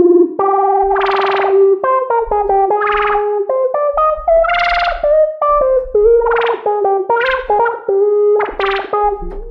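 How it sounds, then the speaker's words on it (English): A Hive synth patch played expressively with the mod wheel, written as game music: a melodic lead with gliding stepped notes, swelling bright distorted chorus-like bursts and echo, loud and continuous with no talking. "I'm using this Hive patch, which has really expressive feel in terms of dynamics and the mod wheel."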